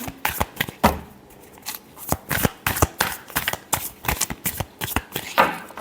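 A deck of tarot cards is shuffled by hand nearby, producing irregular crisp riffling and slapping bursts with short gaps between them.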